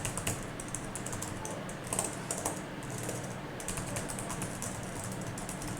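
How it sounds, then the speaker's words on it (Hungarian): Keys tapped steadily on a broken laptop keyboard, a fairly close, continuous run of light plastic clicks with brief pauses. "Csak hogy meg tudjam mutatni, hogy mennyire nem működik a billentyűzet."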